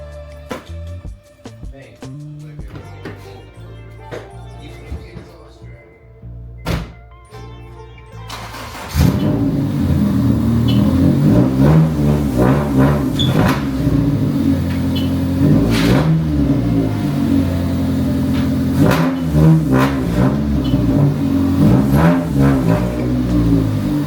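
A heavily lowered, cambered car with its exhaust scraping near the ground starts up and drives off, the engine revving loudly and steadily after a quieter opening stretch with some handling noise.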